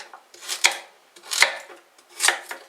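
A knife cuts carrots in half on a board, three separate close, crisp chops spaced evenly apart, each with a short scraping slide, with no voices.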